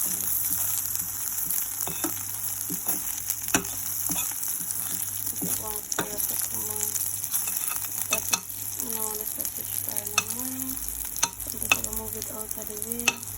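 Food frying and sizzling in a pan for sweet and sour chicken, a steady hiss with scraping stirs and clinks of a utensil throughout, close and continuous.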